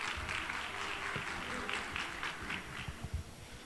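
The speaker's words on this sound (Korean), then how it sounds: "여러분 박수 부탁드립니다." A seated audience at the COMEUP 2021 startup showcase claps as a presenter is introduced, a steady even wash of hands over a low room rumble, with a few louder claps near the close.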